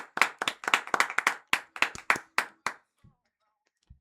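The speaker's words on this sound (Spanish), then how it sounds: "Un aplauso para Ama, por favor" A small group claps for a community member, a sparse run of distinct, fairly close hand claps that thins out and stops after under three seconds, followed by near silence with a faint voice.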